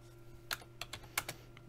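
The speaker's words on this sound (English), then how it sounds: "Let's type in" A short run of crisp, close keyboard taps while typing during poker play, a handful of separate clicks over a faint steady hum.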